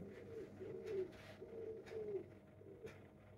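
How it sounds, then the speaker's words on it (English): A bird calls outside in a repeated cooing pattern, roughly four low phrases spaced about a second apart, moderately close and clear against a soft background hum. "bird outside."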